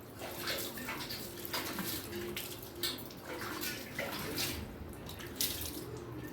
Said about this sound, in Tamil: இப்போ வந்து தண்ணி ஊற்றி கழுவுறாங்க.